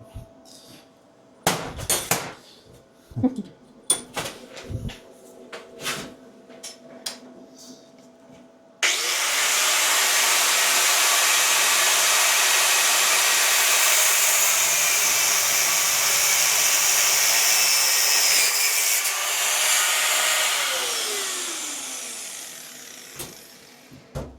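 A powered cut through metal pieces clamped together in a vise in a welding workshop gives a loud, steady, high-pitched whine lasting about fifteen seconds, preceded by scattered clanks and knocks of setting up.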